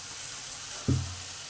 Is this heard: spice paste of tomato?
yes